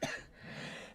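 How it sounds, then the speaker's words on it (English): A person coughs, with a short harsh burst at the start and a second brief cough at the end, close and fairly quiet. "And you're coughing on me."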